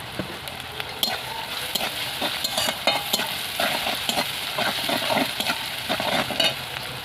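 Ground garlic paste fries in hot oil for a Rohu fish posto dish, with a steady close sizzle and repeated scraping clicks from stirring throughout.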